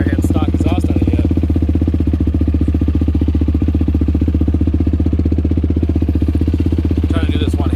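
A 2023 Yamaha YFZ ATV with a loud aftermarket exhaust idles with a rapid, throaty exhaust pulse, steady and close, while bits of speech come and go over it.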